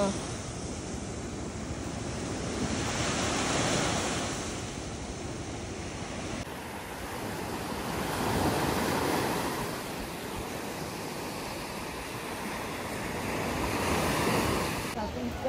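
Ocean waves roll onto a beach in the Andaman Islands, a steady wash of surf swelling and receding in slow cycles, with wind buffeting the microphone throughout.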